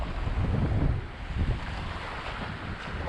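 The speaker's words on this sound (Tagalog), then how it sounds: "Maalon pa rin yung dagat." Rough sea waves at a sandy fishing beach surge and wash in loud, continuous broadband rushes, mixed with wind noise, two stronger swells early on.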